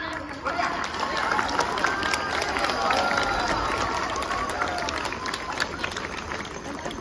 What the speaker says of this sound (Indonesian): Untuk kita semua, tepuk tangan.